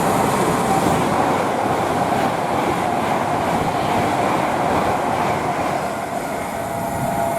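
A Class 390 train passes at speed toward London on the West Coast Main Line at Rugby, a loud continuous rushing rumble of wheels and rail noise that holds throughout.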